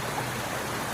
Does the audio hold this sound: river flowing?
yes